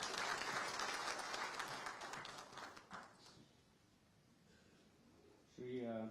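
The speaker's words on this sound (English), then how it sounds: "A round of applause in our meeting." Applause from an audience at a FICCI National Executive Committee meeting in Ahmedabad, dense and steady at first, then thinning and fading out, with a voice speaking briefly at the end.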